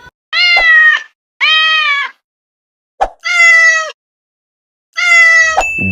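A domestic cat meows four times in clear, close, drawn-out calls, the third preceded by a short sharp sound, with brief silences between.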